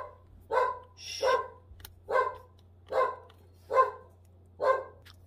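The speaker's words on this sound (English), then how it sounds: "Didn't want to hear him barking." Charlie the dog barking indoors, six evenly spaced sharp barks close to the microphone over a low steady hum, with a brief hushing voice among them.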